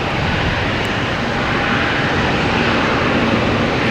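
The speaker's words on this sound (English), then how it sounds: "All right, we have Delta coming in from Detroit. An A321." A Delta Airbus A321 arrives at Boston Logan from Detroit, its engines producing a steady, broad roar that stays loud and even throughout the short stretch, with no talking.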